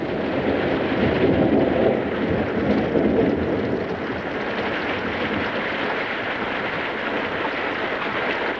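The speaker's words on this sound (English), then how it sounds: "The rain is heavy and widespread" Heavy, widespread rain falls in the African wilderness as a dense, constant roar of downpour, loudest in the first few seconds and then settling into a steady wash.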